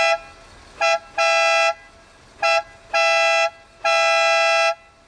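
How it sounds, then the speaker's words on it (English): Bentley Azure town and country horn, a bright multi-tone honk sounded six times in a pattern of short and long blasts, loud and close with quiet gaps between. "now I press this horn button in the center console. Take a listen to the horn again."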